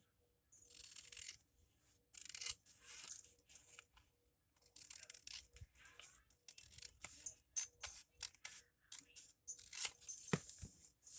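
Scissors cut a decorative paper page for Bible journaling, with intermittent crisp snips and papery rustles that come in uneven bursts against quiet gaps and grow denser toward the end.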